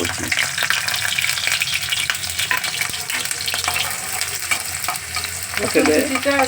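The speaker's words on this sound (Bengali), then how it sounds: "এই যে কড়াই তেল দেওয়া হয়েছে এইবার রসুন কুচি দিয়ে" Chopped garlic fries in oil in a karahi with a steady, dense crackling sizzle, loud and close, joined now and then by the scrape of stirring.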